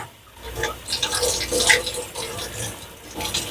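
Water from a tap rinsing through a clogged water flow valve body of a Bunn coffee brewer, a close splashing, gurgling flow that swells and eases, no speech.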